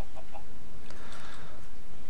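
Chickens cluck in a Furry's Big Dig game scene, with a few short clucks early on and then a brief louder burst of fowl calls over a steady low background.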